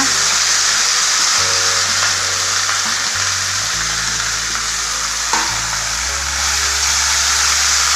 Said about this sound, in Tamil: கோஸு இந்த கருவேப்பிலை கொத்தமல்லி புளி எல்லாம் சேர்த்து வதக்கலாங்க